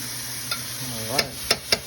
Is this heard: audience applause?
no